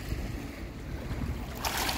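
Ocean waves breaking at the shore: constant low rumbling surf with wind buffeting the microphone, then a brighter hissing wash toward the end.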